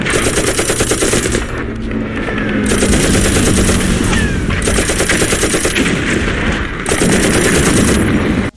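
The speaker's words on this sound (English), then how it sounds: "the Green Beret can pick up machine guns from turrets" Machine gun fire from the Commandos video game: loud, continuous rapid bursts of shots in three long volleys with brief pauses between them.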